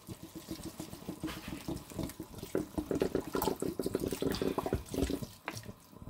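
Water streams steadily from a bottle into a pot of vegetable risotto with tuna, a close, continuous gurgling splash that runs unbroken for several seconds with no talking.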